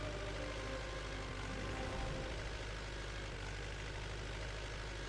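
A heavily loaded farm vehicle in Farming Simulator 19 grinds slowly up a hilly road, its engine a steady, deep, labouring drone that holds on without a break from start to finish.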